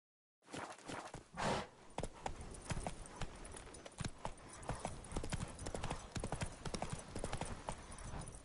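A horse in The Witcher 3 video game trots and gallops with steady rapid hoof clip-clops, loud and close, with a brief snort or whinny early on and a breathy sigh.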